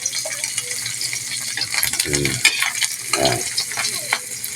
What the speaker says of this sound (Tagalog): prito muna tayong tuyo bago tayo magsangag